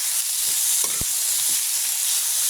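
Squid sautéing in a pan with onion, garlic and tomato, a dense, steady sizzle filling the background while a utensil scrapes and knocks against the pan a few times, close and loud with no talking.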